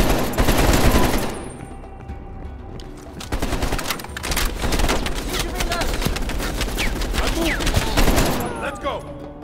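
A heavy machine gun in Call of Duty: Black Ops Cold War fires long, loud, rapid bursts of gunfire, almost continuous, with brief voices mixed in.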